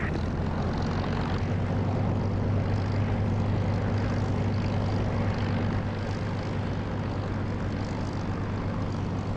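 An aircraft engine in the DCS flight simulator game drones steadily at takeoff with a heavy low rumble and broad roar, loud and constant throughout.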